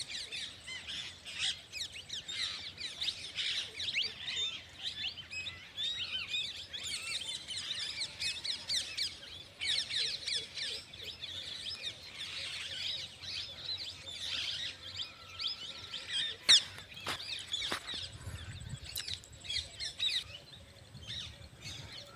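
Parrots in a bajra millet field keep up a dense, continuous chatter of chirps and squawks at moderate distance, with a low rumble rising near the end.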